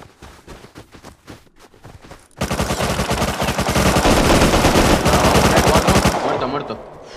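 Gunfire in the survival game Rust: a few scattered shots are followed by a loud, sustained burst of rapid automatic fire that hammers on for several seconds before cutting off.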